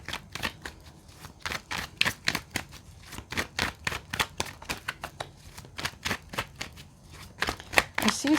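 Tarot cards being shuffled by hand, a rapid run of crisp riffling and slapping bursts close up, repeating in uneven clusters throughout.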